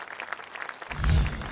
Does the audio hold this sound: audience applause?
yes